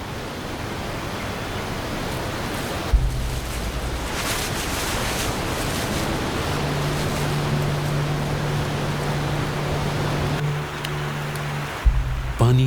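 The Kali Gandaki river flows through a mountain valley, a steady, full rush of water that holds at an even level throughout with a faint low hum beneath it.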